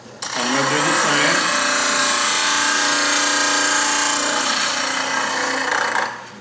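A woodturning bowl gouge being sharpened to a fingernail grind, making a loud, steady grinding hiss that holds evenly for several seconds before cutting off abruptly.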